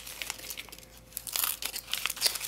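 Paper wrapping on a small mail package crinkles and tears in quick close bursts, fairly faint, with no talking.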